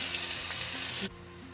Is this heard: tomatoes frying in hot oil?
yes